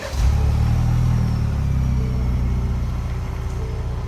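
A 2021 Ford Bronco 2.3L with stock exhaust idles with a deep, steady rumble, revving briefly near the start, then settling into a continuous low drone, close and fairly loud.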